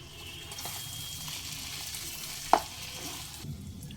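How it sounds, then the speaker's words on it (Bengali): Ground spices (coriander, cumin, black pepper) sautéing with mutton in a pan, a steady close sizzle and frying hiss with a single sharp utensil clink partway through. "গুঁড়ো মশলাগুলো দিয়ে এক মিনিট মতো একটু কষিয়ে নিয়েছি"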